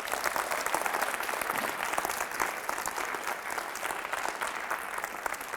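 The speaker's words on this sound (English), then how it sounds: "Everyone give a huge round of applause to Berkeley." An audience at a high school assembly gives a dense, continuous round of applause, with many hands clapping at once at a moderate, fairly distant level with no talking over it.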